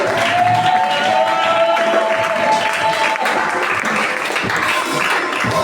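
Church congregation applauding during a worship service, steady dense clapping from a crowd throughout, with some cheering and voices mixed in and a sustained musical tone underneath.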